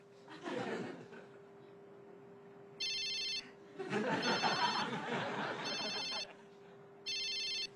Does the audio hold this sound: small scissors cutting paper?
no